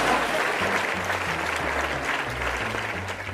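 A live audience bursts into sustained, dense applause with a few faint cheers, loud and continuous throughout.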